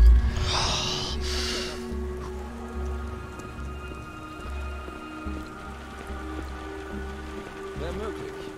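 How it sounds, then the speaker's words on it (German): Steady rain in the video game Beyond: Two Souls, falling as a soft continuous patter with low rumbling underneath and a brief louder burst at the start. "Gottverdammter Regen. Sieht nicht aus, als ob es jemals wieder aufhört."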